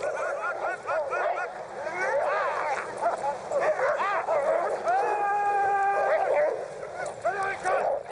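Excited sled dogs bark, yelp and howl together in a noisy, continuous chorus, with some wavering howls rising over the barking, near and loud throughout.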